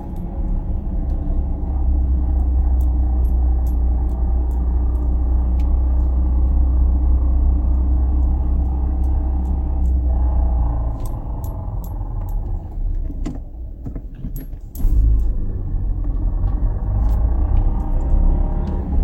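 Steady low road rumble and drivetrain drone inside a Peugeot 207 1.6 VTi moving in first gear, loud and continuous, with a brief dip and a shift partway through, no talking.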